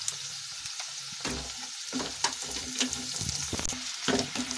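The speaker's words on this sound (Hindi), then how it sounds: "प्याज को हम ज्यादा नहीं भूनेंगे, प्याज को हम हल्का ही भूनेंगे।" Onions and carrots fry lightly in a pan for Indian-style veg macaroni, a steady close sizzle broken by irregular scraping stirs and clinks of a spoon, with no talking.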